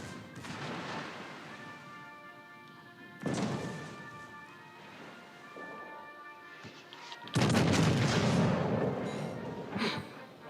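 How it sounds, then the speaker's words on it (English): Heavy launcher fire from a ship's port side in a naval combat video game, heard as loud booming crashes in separate bursts, with a dense, sustained barrage near the end. "That's both launchers from his port side."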